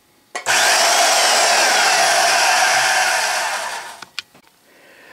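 A homemade mini vertical metal band saw switches on with a sudden loud whir, runs steadily for about three and a half seconds, then winds down, followed by a few sharp clicks.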